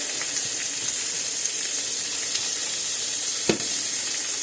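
Butter sizzling in a hot pan while steak is cooked with garlic: a steady, bright frying hiss at close range with one brief clink midway and no talking.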